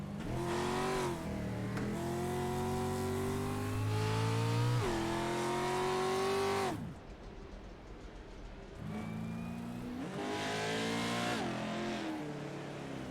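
A Porsche race car engine in a sim racing game, revving hard with rising pitch through several gear shifts, then cutting off briefly before climbing again, loud and steady with no talk over it.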